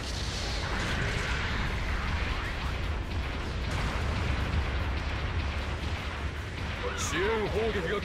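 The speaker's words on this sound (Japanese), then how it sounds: "後方部隊からの砲撃が始まった" Artillery support bombardment in the mech game Gundam Battle Operation 2: dense rumbling booms and blasts rolling continuously at moderate distance, with game voices and chatter heard over the barrage.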